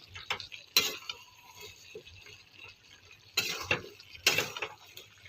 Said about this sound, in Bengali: লঙ্কা গুঁড়ো দিয়ে নেড়ে নেবো একটু।